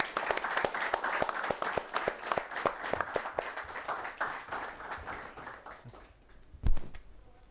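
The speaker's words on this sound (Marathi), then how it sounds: "आपण अतुलसाठी सुद्धा टाळ्या वाजवू." Scattered, moderately faint applause from an audience welcoming actor Atul Kulkarni at a drought-relief volunteer work event, individual claps distinct and gradually thinning out, ending with a single louder thump.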